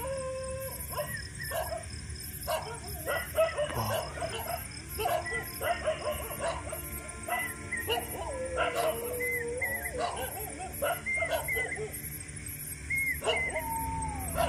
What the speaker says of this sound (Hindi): चारों तरफ कुत्ते भौंक रहे हैं,